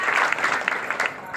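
An audience at a public governance camp in a village breaks into steady, loud applause, a dense patter of clapping that continues throughout.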